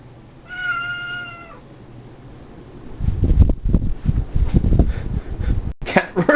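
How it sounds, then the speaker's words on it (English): A cat lets out one clear, drawn-out meow near the start, then rustling and handling noises follow up close with a faint fan-like hum underneath. "Cat really wants to be in the video."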